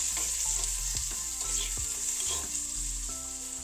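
Oil sizzles and fries steadily in a clay pot while fish curry is prepared with grated raw mango, giving a close, continuous crackling hiss with some stirring under a background hum.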